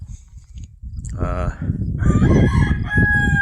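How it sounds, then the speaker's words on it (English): Chickens cluck and a rooster crows nearby, overlapping calls rising in loudness, with some low rustling underneath. "There's the chickens over there, just waiting to be fed."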